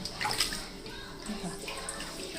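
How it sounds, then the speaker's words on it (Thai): Water is scooped and poured while washing during preparation of a Thai sago dessert, with splashing and sloshing close by, loudest at the start, and a voice faintly underneath. "เราก็ตักน้ำใส่นะคะเชื่อค่ะ ล้างนะคะ"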